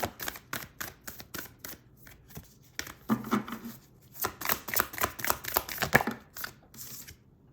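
Tarot cards shuffled by hand for a card draw, a run of quick crisp riffling bursts and soft slaps, close and fairly quiet with short pauses between.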